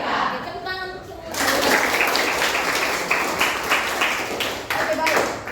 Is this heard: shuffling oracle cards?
no